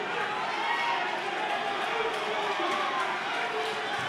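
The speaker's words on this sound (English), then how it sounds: "Crowd absolutely on their feet now. They can sense something coming in this fight." Packed boxing crowd on its feet, a dense continuous roar of cheering and chatter filling the hall, loud and sustained without breaks.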